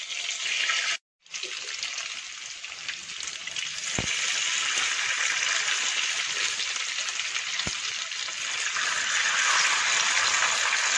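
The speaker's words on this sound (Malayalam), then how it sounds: "ഓയിൽ ചൂടായി, നൂഡിൽസ് ഇട്ട് കൊടുക്കാം" Noodles fry in hot oil in a pan with a loud, steady hiss and sizzle. After a brief dropout near the start the sound swells louder and carries on continuously, with a couple of faint clicks.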